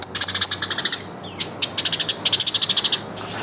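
A caged songbird kept as a master bird chirps in quick, bright repeated bursts with short sweeping whistles, loud and close, in a home with several birds.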